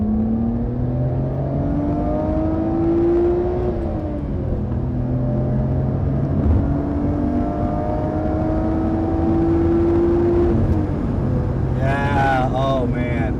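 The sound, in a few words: Nissan Skyline R32 car driving and revving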